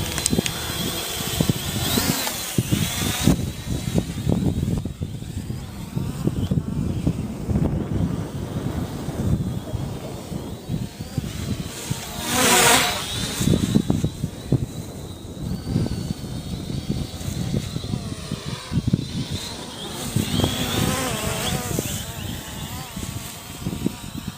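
A Force 1 quadcopter drone flies outdoors with a steady high motor whine, buffeted throughout by gusty wind noise on the microphone.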